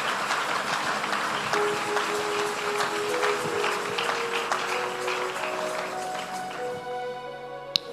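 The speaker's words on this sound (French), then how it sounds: "Est-ce qu'on peut acclamer très fort?" A church congregation applauding with steady, dense clapping and some cheering voices, moderately loud and continuous, while an organ or keyboard plays sustained notes underneath toward the end.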